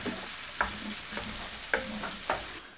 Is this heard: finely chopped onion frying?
yes